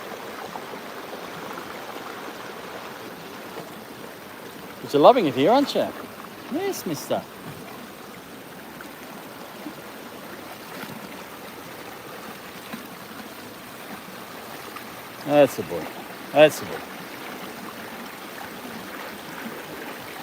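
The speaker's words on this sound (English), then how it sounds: "this is the Nepean River, a beautiful part of Sydney" The Nepean River on the edge of Sydney flows with a soft, constant wash of water. Someone talks to a dog over it, with brief splashy bursts now and then.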